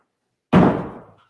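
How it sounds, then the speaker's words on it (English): A single door swings shut with a solid, close thud in a quiet house, the sharp impact followed by a short fading rumble and no talking. "I'm going to shut this door real quick"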